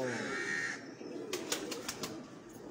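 A large pigeon gives soft, low cooing against a quiet background, followed by a few brief clicks and scuffs.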